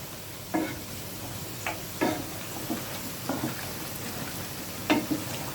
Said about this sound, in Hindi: अब हम इसे मीडियम से हाई फ्लेम पर फ्राई करेंगे।